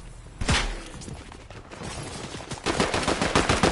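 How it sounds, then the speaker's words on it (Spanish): Gunshots in the video game Fortnite: a sharp loud shot early, then a dense rapid burst of automatic fire toward the end, with no talking over it. "De atrás son tiros."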